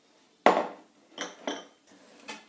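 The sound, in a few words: mixing egg yolk with sweetener in a bowl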